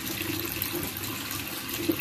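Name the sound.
tap water running while washing hands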